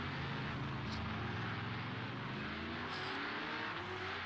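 V8 Supercars race car engines in a sim racing game at the Long Beach hairpin, a steady loud engine drone with rising revs as several cars come around, continuous throughout with no talk.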